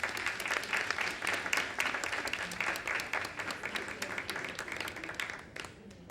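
An audience at an annual graduates' gala applauds steadily for a student, a dense, faint patter of many hands from a distance that fades slightly at the end.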